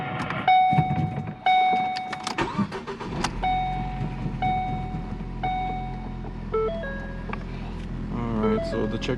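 A Ford Focus with a newly repaired clutch idles with a low, steady engine hum, joined partway through by a series of electronic dashboard chimes and beeps from inside the car.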